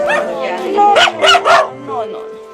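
Rescued puppies bark and yip in a quick series of high, close barks, about four sharp bursts in a row, with a voice heard around them.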